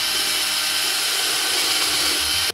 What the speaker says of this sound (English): just take my drill and go zip zap, zip zap, zip zap